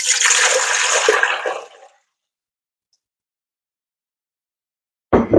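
Water gushes loudly into a pot for cooking black-eyed peas, a close, full rushing pour that lasts about two seconds and stops abruptly, followed by silence and a brief clatter at the end.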